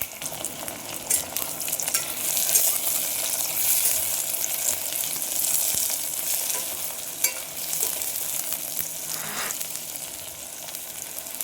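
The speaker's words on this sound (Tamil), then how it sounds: "இதையே நல்லா பொன்னிறமாக வதக்கிக்கலாம்." Chopped big onions sautéing in hot oil in a pan while an egg gravy is prepared, a steady bright sizzle with occasional stirring scrapes, close and continuous, no talk.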